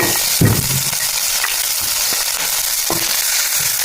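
Crushed ginger and garlic, about two tablespoons, hit hot oil for a Kerala-style egg kuruma: a loud, dense sizzle with a few sharp spatter crackles and clinks, no talking.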